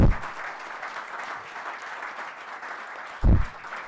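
A crowd at a coaching awards ceremony applauds, steady broadband clapping from many hands throughout, with a louder burst or cheer near the end.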